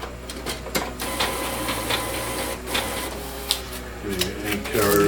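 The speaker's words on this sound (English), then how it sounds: "The ink carrier is flying around." An Epson WorkForce WF-7610 printer runs its initialization, the ink carrier shuttling back and forth with a busy stream of mechanical whirring, clicks and short motor bursts, close and steady, ending in a louder rising whine.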